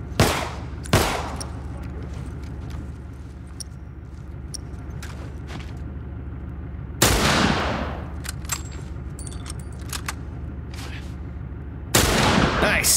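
Gunshots in The Last of Us Remastered on PS4 ring out as three loud, sharp blasts spaced several seconds apart, each with a ringing tail, over a low steady game ambience.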